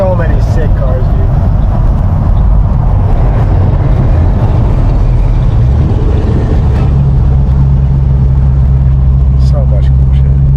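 Hot rod cars rumbling at the Hot Rod Power Tour, a loud, close, continuous engine drone with deep low-end throb, revving and passing vehicles, while people talk over it.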